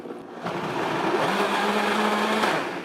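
A blender blitzes cooked ingredients for a Christmas dish, a loud, continuous motor whir that spins up quickly and holds a steady, slightly rising drone for a few seconds.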